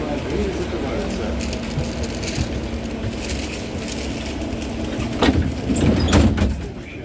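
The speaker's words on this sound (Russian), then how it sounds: "Осторожно, двери закрываются." Tram doors on an LVS-86K tram slide shut near the end, a short rush and thud under the recorded announcement and the steady cabin rumble.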